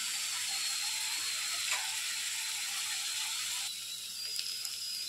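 Seasoning fries in hot oil in a pan while godhuma rava upma is being made, a continuous thin crackling hiss with faint scrapes, steady and close before easing slightly toward the end.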